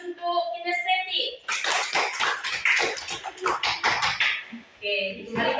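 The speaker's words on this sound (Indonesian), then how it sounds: "kita beri aplaus untuk kinestetik" Pupils in a fifth-grade primary school classroom burst into a dense round of clapping for about three seconds, with a teacher's voice speaking just before and after.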